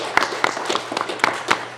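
Sparse, scattered handclaps from a small audience at a victim impact panel in a church, a few distinct sharp claps spaced irregularly, moderately close and without talk.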